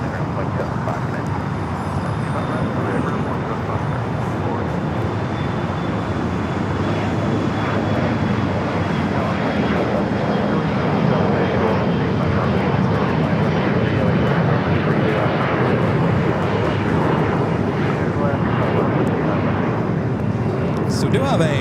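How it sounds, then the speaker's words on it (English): Boeing 777-300ER airliner taxiing at Los Angeles airport toward a London Heathrow departure, a steady, loud jet-engine roar sustained throughout at close range, with talk running beneath it. "the flight to London Heathrow, now starting its taxi"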